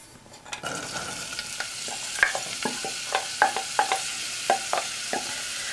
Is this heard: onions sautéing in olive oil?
yes